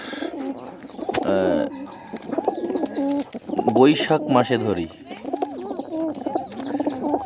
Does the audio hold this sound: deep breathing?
no